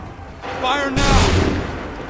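Cannons fire on command in Assassin's Creed 3, a loud booming volley that rolls into a sustained, crackling roar lasting over a second.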